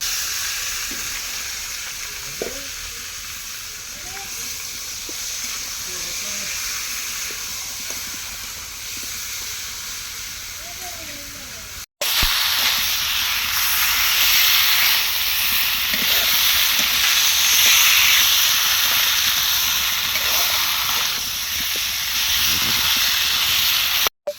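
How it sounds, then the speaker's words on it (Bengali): Marinated beef dropped into a hot pan, a loud steady sizzle and hiss that swells sharply partway through as the meat goes in, close and continuous with no talk. "দিয়ে দেবো মেখে রাখা গোস্তগুলা"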